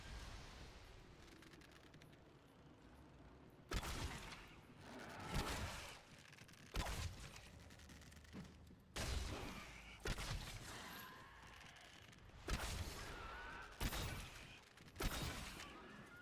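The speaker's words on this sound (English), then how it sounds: "Two charge shots." Charged bow shots fired in a video game, a series of sharp, loud bursts, about seven or eight, spaced irregularly over a quiet background.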